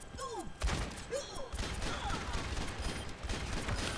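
Gunfire from the character Ashe in the video game Overwatch, several sharp shots with thuds and mechanical clacks, close and loud, with faint background game sounds.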